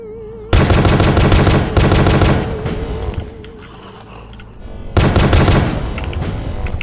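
Loud rapid automatic gunfire from the video game The Pony Factory, firing in two long bursts with a quieter lull between them, close and dominant with no talk over it.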